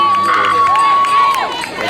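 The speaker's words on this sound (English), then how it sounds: "That's a round of applause as she comes in." Crowd at the finish of the GSS road relays in 2023 cheers and applauds as a female runner from Red House comes in, a steady roar of voices and clapping with a whistle-like tone running through it, close and loud throughout.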